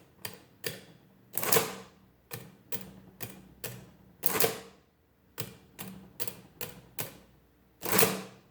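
A pre-1940 Friden Model S mechanical calculator in a green case runs in add mode, giving sharp, close, irregular clacks with a few longer grinding whirs between them and no talking.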